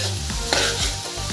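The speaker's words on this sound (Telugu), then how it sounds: "ఉల్లిపాయలు గోల్డెన్ కలర్ వచ్చే వరకు ఫ్రై చేసుకోవాలి." Thinly sliced onions and green chillies fry in a pan while being stirred, with a steady close sizzle and repeated scraping strokes throughout.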